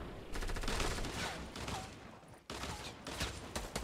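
Rapid automatic gunfire in Fortnite during a castle fight, a dense rattling fusillade of many quick shots, with a short pause before another burst, loud and continuous.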